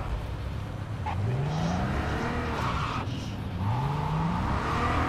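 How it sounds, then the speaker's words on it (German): A fast car in the video game Cyberpunk 2077 accelerates hard, its engine pitch sweeping upward twice in quick rising pulls over a constant loud roar, with a tire squeal as it goes. "Also dieses Auto ist so brutal schnell."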